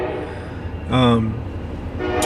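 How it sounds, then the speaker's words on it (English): A train horn sounds in a backyard during a hunting recap, a short loud tonal blast rising over a steady rumble of a passing train, with speech around it. "there's a train going in the backyard"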